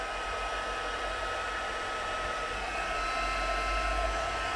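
A heat gun blows hot air steadily while warming up before heat embossing flowers and a sentiment on a handmade card, a constant close whooshing roar with no talking.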